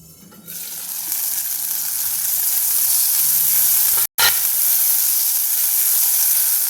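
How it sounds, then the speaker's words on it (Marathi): Packaged peas stirred in a hot pan for matar paratha filling, giving a steady broad sizzle that swells after a quiet start and cuts out for a split second midway, with no talking. "आता मटरला आपण चांगलं हलवून घेऊया"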